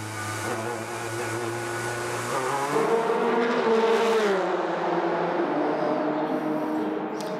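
Ford race cars at the 2016 6 Hours of Spa-Francorchamps endurance race sweep past in a sustained, loud engine roar with shifting pitch as they pass, no talk over it.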